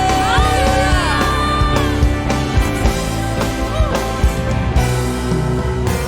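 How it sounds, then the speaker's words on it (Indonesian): A church congregation cheers hallelujah together: a loud, continuous crowd of shouts and whoops that swells over steady music, with individual voices rising above the mass. "Sorakan haleluya."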